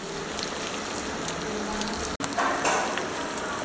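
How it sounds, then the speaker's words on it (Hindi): Mutton tikka fries with spices in a pan, a close, dense crackling sizzle that cuts out for an instant and then returns slightly louder, with no voices. "अब मज़ीद इसे 4-5 मिनट में भून लूँगा।"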